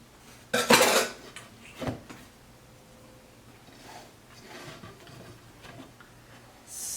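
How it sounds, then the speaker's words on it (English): A marble cake dusted with powdered sugar is sliced, and the knife and server knock against the plate in a few sharp clinks and scrapes, the loudest near the start, then softer taps in a quiet kitchen. "I'm gonna go ahead and cut a slice out of this."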